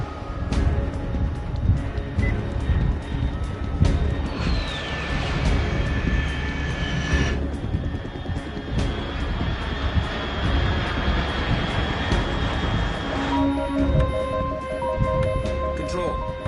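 Aircraft engine drone in Metal Gear Solid 3 gameplay, a steady roaring hum with a rising whine partway through and tonal game sounds layered over it, continuous and fairly loud.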